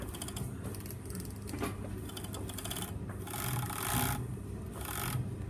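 A sewing machine stitches a fly facing on a women's fly-front zipper, curving around the edge with a continuous rapid mechanical chatter, close and steady, swelling in intensity in short bursts.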